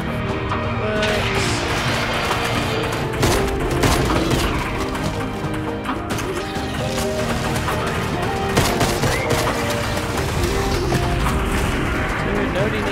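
Rapid bursts of FAMAS gunfire in Fortnite crackle continuously amid explosions and other game action, dense and loud throughout, with voices talking over parts of it.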